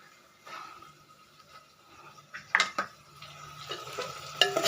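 Ginger paste and shallots fry in a pan for a curry, with a soft steady sizzle under sharp metallic clinks and scrapes of a spoon stirring against the pan, louder near the end.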